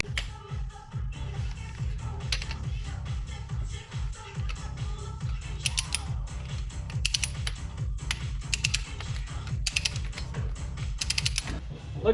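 Wrench clicking in repeated quick strokes while crankshaft bolts on a Dodge 318 street car engine are tightened and torqued to 85 pounds, a steady mechanical ratcheting close by with sharp metallic taps, no voices.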